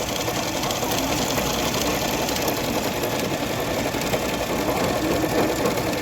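A sewing machine stitching a honeycomb embroidery design runs steadily and continuously at close range, a dense even whirring chatter with fast mechanical ticking throughout.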